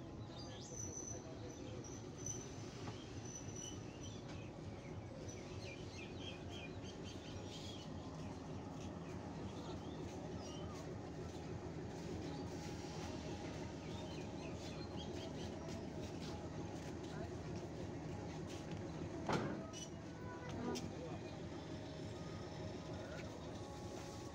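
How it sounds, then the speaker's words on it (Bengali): A 6514-series locomotive idles nearby while coupling to Sirajganj Express carriages, with a low rumbling engine drone and occasional metallic clanks, faint birds and insects in the background. "সিরাজগঞ্জ এক্সপ্রেস ট্রেনের লোকো কাপলিং করা হচ্ছে।"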